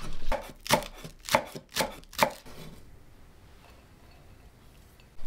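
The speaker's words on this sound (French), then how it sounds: "Je cisèle 3 cébettes." A knife chops spring onions on a cutting board in five crisp, evenly spaced strikes. The chopping is close and loud, and quiet room tone follows.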